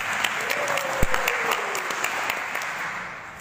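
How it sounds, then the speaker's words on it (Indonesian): An audience at a talk or discussion session bursts into applause, a dense patter of many hands clapping at close to middle distance that holds steady for a few seconds before starting to thin out. "Oke, kita beri aplaus untuk pertanyaan terakhir."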